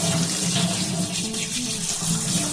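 Tap water pours steadily onto chow mein noodles being squeezed and washed in a basket, a loud continuous splashing rush with no speech.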